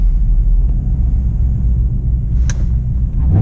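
A car on bald snow tires stuck on a snowy driveway, its engine giving a loud, steady low rumble throughout, with a brief sharp squeal or click near the end.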